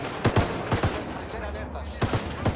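Gunfire from the video game Ghost Recon Wildlands: repeated loud bursts of shots in quick clusters, over a steady mid-level background of game ambience.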